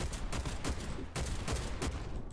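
Uzkon UNG-12 shotgun fired in rapid succession in Warface, a loud close burst of about six punchy blasts in quick rhythm.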